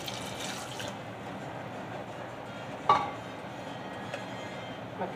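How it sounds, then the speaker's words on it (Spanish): A cup of water is poured into a hot pan of sautéing beef for bistec, giving a sizzling, splashing wash of liquid with a brief sharp clatter midway. "Ahora le voy a echar una taza de agua"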